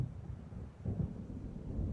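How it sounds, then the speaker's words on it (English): Thunder from an approaching storm in Alan Wake Remastered, a continuous low rumble that swells and rolls steadily with no voices over it. "It seems there's a storm coming."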